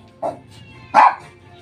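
A dog barks twice, short and sharp, close by, the second bark louder than the first, with quiet between.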